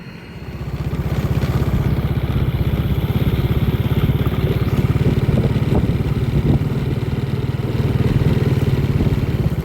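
A motorcycle ridden along village roads toward the rice fields, its engine droning steadily and loudly close by for the whole stretch, with a rapid, throbbing pulse and some rattle; no talking.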